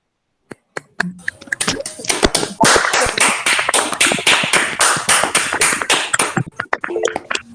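Participants in an online video session unmute and clap, starting with a few isolated claps and building into a dense, overlapping stream of sharp claps through compressed call audio.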